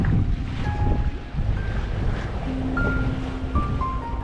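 Sailboat moving fast through waves and wind in a narrow channel, a loud continuous rush of water and wind noise on the microphone, with faint tonal whines drifting through, no voices.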